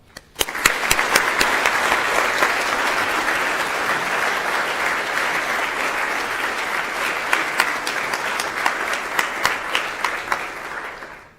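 An audience in a school chapel applauds to welcome a speaker, a dense, sustained wash of clapping from many hands that holds steady for about ten seconds before dying away.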